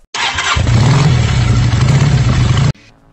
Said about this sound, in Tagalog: SMG starter for smooth starting